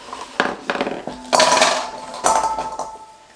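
Raw chestnuts poured into a heat-proof bowl, a few bursts of close hard clattering and clinking as the nuts tumble against the dish, with quiet gaps between.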